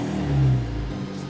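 A Genesis G70 engine revs hard, a loud sustained mechanical roar that swells briefly and then holds steady over a little more than a second.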